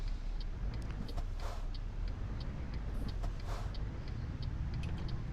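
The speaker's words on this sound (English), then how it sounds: "So we have to wait until this traffic passes" Road traffic in Euro Truck Simulator 2 passing steadily, with a constant engine and tire hum throughout and occasional faint ticking over the rumble.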